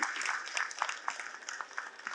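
Audience at a Buddhist dharma talk clapping for a senior monk, a short, moderately loud burst of crowd applause with scattered sharper claps, no voices over it.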